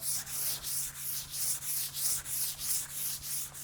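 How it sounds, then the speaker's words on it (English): Steady back-and-forth strokes of hand sanding to scuff a coat of finish on wood, a rhythmic scratchy rasp repeating about three times a second, close and fairly quiet. "for the third coat, I think I'm just gonna use hand sanding to"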